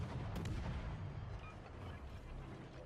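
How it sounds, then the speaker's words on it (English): Ship guns fire in the naval video game World of Warships Legends, from a Gdańsk destroyer: heavy booming salvos with a sharp burst near the start, fairly faint and with no talk over it. "I'm going to open up with my guns"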